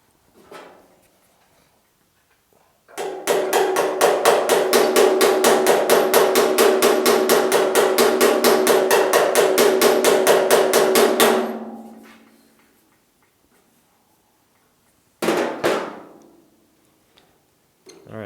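A hammer tapping out a low spot in a steel car body panel on a GTO restomod, a fast, regular run of sharp metallic taps for about eight seconds, then a short second burst after a pause.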